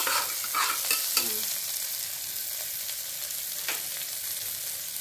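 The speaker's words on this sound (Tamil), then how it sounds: "அதை வந்து நல்லா வந்து வணக்கி விட்டுருங்க. அப்பதான் நல்லா வேகும்." A single chili pepper sautéing in hot oil for veg kurma, a continuous close sizzle with a few stirring clatters near the start, steady throughout with no speech.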